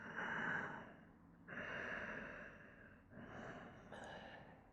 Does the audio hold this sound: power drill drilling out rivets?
no